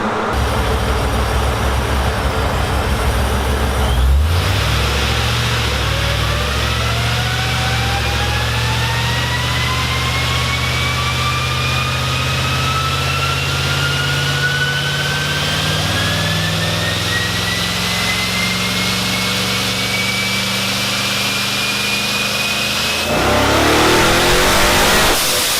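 An LS-swapped Chevrolet C10 truck engine idles, then revs in one long rising dyno pull on the rollers, climbing steadily in pitch before backing off, loud and close.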